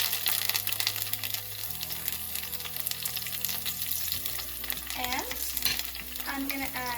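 Chopped cilantro fries in a couple of spoons of oil in a pan, with a continuous crackling sizzle and scraping stirring strokes for the whole stretch, loud and close, with no talking.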